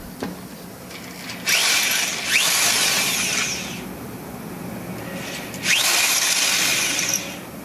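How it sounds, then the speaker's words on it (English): A drill bores into a post-tensioned duct on a bridge, running in loud bursts of harsh, grinding noise with brief pauses between them and no talk over it. "drilling into the post-tension duct on the bridge there"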